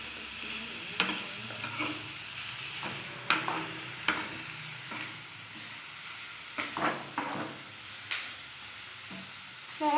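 Onion, garlic and green chili frying in a pan while being stirred, a soft sizzle broken by intermittent scraping and knocking of a spoon against the pan, fairly quiet and close.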